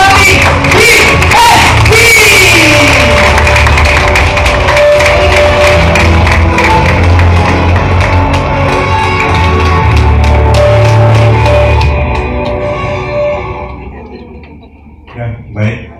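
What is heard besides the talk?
audience applause welcoming the speaker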